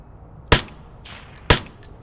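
Two sharp rifle shots at a target range in a VR game, about a second apart, each a crisp loud crack with a short metallic ring afterward, alone in a quiet background.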